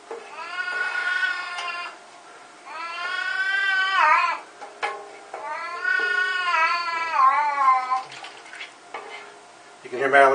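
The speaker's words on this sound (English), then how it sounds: "That's my cat." A cat meows loudly in several long, drawn-out yowls close by, with short pauses between them and a quiet sizzling of sausage gravy cooking underneath.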